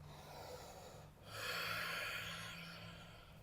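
A person takes a deep, slow breath in and out during vinyasa yoga practice, soft and close, rising into a fuller airy inhale midway with no talking.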